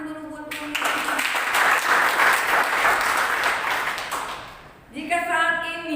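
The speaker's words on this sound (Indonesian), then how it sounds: "Tepuk tangan dulu buat Tuhan." A church congregation at a Sunday service bursts into dense applause lasting about four seconds, loud and close, then fading as a voice resumes speaking.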